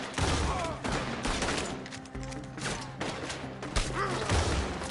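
Rapid volleys of gunfire in Red Dead Redemption 2, loud and close, with overlapping shots and crashes in dense bursts over nearly five seconds, with faint voices mixed in.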